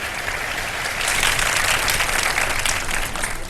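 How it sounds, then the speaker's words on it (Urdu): Studio audience on a Ramadan iftar television show breaking into full applause, a dense continuous clatter of many hands that swells louder partway through and holds steady to the end. "سیدہ نورین صاحبہ آپ کے لیے ان کو تالیوں کی صورت میں مبارکباد دے دیجیے جی"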